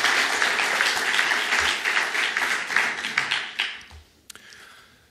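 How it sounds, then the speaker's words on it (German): A church congregation claps in a warm, moderate round of applause that gradually thins out, ending in a few scattered claps and a faint knock. "das ist doch ein kräftiger Applaus wert,"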